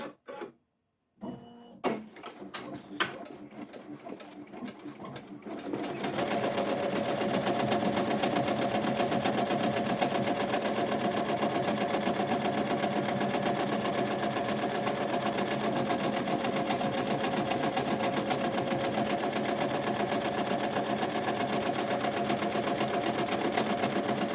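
An embroidery machine stitches a 3D puff design, first a few brief start-up whirs and pauses, then a steady, close, rapid mechanical stitching hum that runs continuously to the end.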